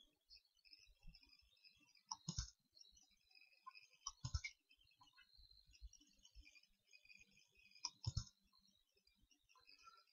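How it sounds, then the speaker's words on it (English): Computer mouse clicks and keyboard presses while drafting in CAD software, a few sparse, crisp close clicks spaced seconds apart in a quiet room, with faint tapping between them and no talk. "Click and press Shift on keyboard."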